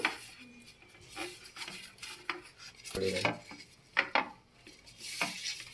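Oil spread by hand across a plate while making groundnut, sesame and jaggery chikki, with soft rubbing and scraping plus light clinks of dishes, close and moderately quiet, with no voice present.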